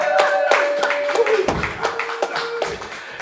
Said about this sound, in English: Everyone give Paul a big round of applause, please.